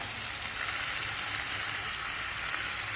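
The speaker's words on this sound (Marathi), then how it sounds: "आणि कांदा परतून घेऊया त्यात।" Onion frying in a hot pan gives a steady, even sizzle with fine crackling, close and continuous throughout, with no voices.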